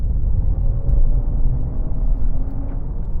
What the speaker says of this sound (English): I have never heard such a ridiculous fake noise added to a car before